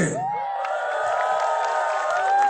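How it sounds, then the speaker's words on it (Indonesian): A congregation at an evangelistic revival service in Tapanuli, Indonesia, cheers with long, sustained shouts and voices that swell together, fairly loud and steady for a couple of seconds. "Oh, kita berikan tepuk tangan yang meriah buat Tuhan."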